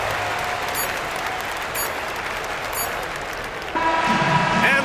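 Crowd applause after a home win in the NBA 2K25 basketball video game, a steady broadband roar across the whole clip that swells slightly louder near the end, with faint background commentary underneath.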